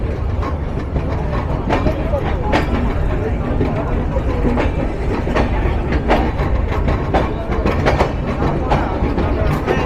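The Madhumati Express intercity train runs along the line in Bangladesh, a loud, continuous rumble with steady clickety-clack wheel beats and rattling carriages heard from on board, with no clear voices.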